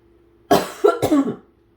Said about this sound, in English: Still have a tiny bit of a cough.